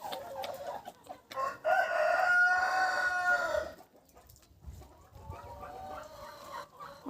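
Bantam and Cochin roosters crow one after another, loud and close, with a second strained crow following a brief pause amid background farmyard noise.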